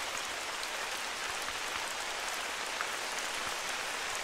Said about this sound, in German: Der Regen ist natürlich jetzt echt scheiße.